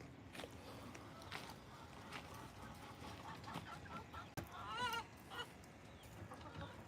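Chickens clucking and honking calls from a backyard flock, scattered squawks and a burst of louder cackling near the middle, moderately close over a low ambient rumble.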